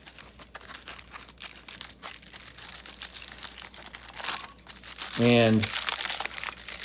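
Packaged vegetarian pepperoni being unwrapped, with plastic crinkling and crunching close by, punctuated by brief speech.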